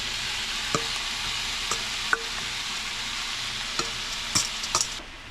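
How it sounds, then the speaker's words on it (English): Kale and mixed vegetables tipped into hot oil hiss in a steady, close sizzle, broken by a few sharp clinks and scrapes of stirring. "Now that our oil's nice and ready, we're gonna add everything in the bowl."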